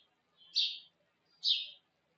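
A noisy bird calls outside a high building, two short bright chirps about a second apart, clear and moderately close against quiet.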